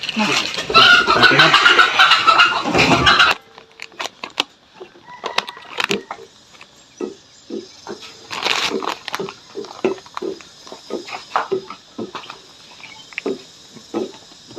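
Chickens clucking and a rooster calling at close range, with short repeated clucks scattered through the clip after a loud burst of noisy activity at the start.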